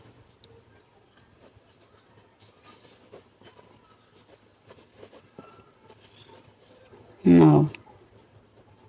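Pen-on-paper scratching while ruling lines with a marker during a math class, a soft steady scratch through most of the passage, under a person speaking, ending in one brief louder burst near the end.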